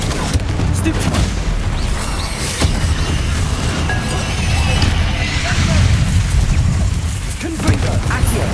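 Spell-cast bomb explosions in the Hogwarts Legacy video game, a dense run of booming blasts and crackling bursts layered over constant low rumble, loud and continuous with no clear gaps between detonations.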